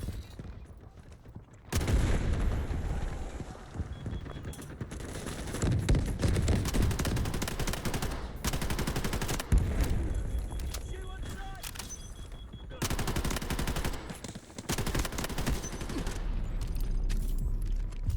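Submachine gun fire in the Delta Force shooter game, with dense, continuous rattling bursts and booms packed close together across nearly the whole stretch, loud and busy.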